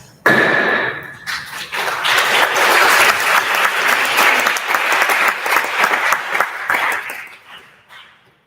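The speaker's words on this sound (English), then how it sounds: "let's give them all a round of applause" Sustained applause fills a senate session chamber, a dense wash of clapping that swells quickly after a brief opening tone, holds steady for several seconds, then thins and fades near the end.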